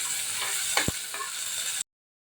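Large tomato pieces sauté with softened onion in a pan for a homemade sambar. A steady close sizzle carries a brief stirring scrape, then cuts off abruptly.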